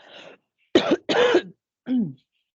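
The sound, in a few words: cough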